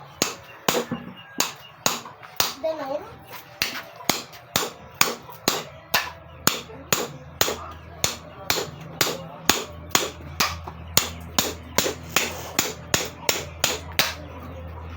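A machete chops repeatedly into the hard spine of a blue marlin, sharp steady whacks landing about once a second, close and loud, with occasional voices in the background.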